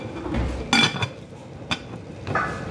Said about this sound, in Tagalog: takpan natin yung adobo para kumulo siya